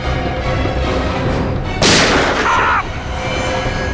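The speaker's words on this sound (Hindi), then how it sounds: "सर गोली चली है" A sharp gunshot rings out in a Hindi TV crime drama, one loud broadband crack followed by a brief ringing tail over continuous background music and ambience.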